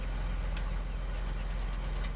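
A farm tractor engine idles close by in a steady low diesel rumble with a faint rattling texture, continuous for the whole stretch and without voices.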